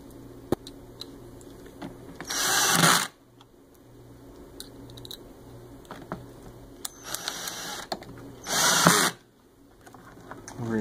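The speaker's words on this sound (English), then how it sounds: "Right now we'll put in the three short screws." A power drill drives short screws into a Rug Doctor carpet cleaner pump kit, two separate loud whirring bursts under a second long, with small clicks and handling knocks between them.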